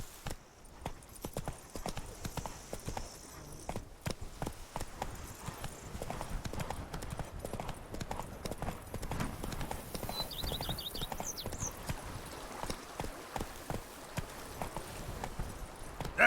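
Roach, a horse in the video game The Witcher 3, gallops with a fast, steady clip-clop of hooves, fairly faint and continuous, with a short whinny-like call partway through and no speech.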